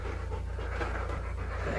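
A dog panting in a cave, steady rapid breaths that sound stressed, close and continuous throughout with no talking.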